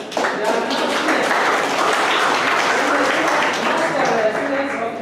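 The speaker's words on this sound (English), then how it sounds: "So I would like them to really give applause for Nick and this lady." An audience at an event at Sandip University in Nashik, India applauds for students, a dense, steady wash of clapping that fills the whole stretch at moderate loudness without speech over it.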